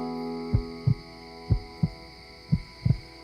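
Heartbeat played back from a video, six thumping beats in lub-dub pairs at a slow steady rhythm over a constant low hum, fairly clear with no talking.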